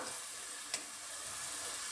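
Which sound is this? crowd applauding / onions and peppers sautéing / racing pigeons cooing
onions and peppers sautéing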